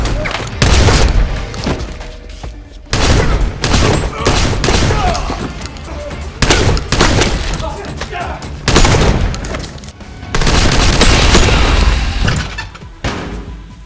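Gunfire rips through a John Wick action film scene in dense, loud bursts of rapid shots and heavy booms. Brief lulls separate the volleys, and other film sounds sit beneath them.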